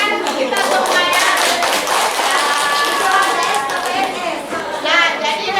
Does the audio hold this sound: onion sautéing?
no